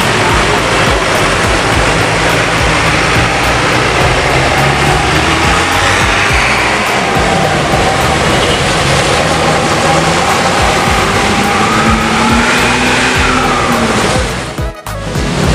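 A Po Haryanto bus pulling away on its Purwodadi route roars loud and close, a steady heavy engine drone that holds for the whole stretch before briefly dipping at the very end.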